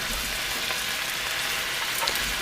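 Vegetables for chicken lo mein are stir-fried in a hot pan, giving a loud, continuous sizzle and crackle with occasional stirring noises and no talking.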